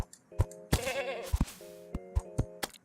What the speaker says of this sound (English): I made a goat sound.